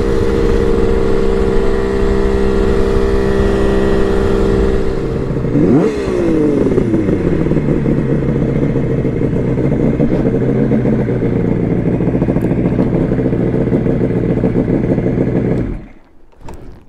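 Kawasaki KH500 H1 two-stroke triple motorcycle ridden at speed, a loud sustained engine whine that drops sharply as it shifts, then climbs and falls again before cutting off near the end.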